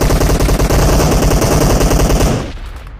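Rapid automatic gunfire from a video game shootout, a loud continuous stream of closely packed shots that rattles on for over two seconds before tailing off into quieter echoes.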